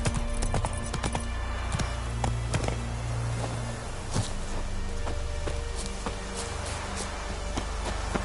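Roach the horse clip-clopping along in The Witcher 3, a steady walking rhythm of hoof taps over low ambient game music and background noise.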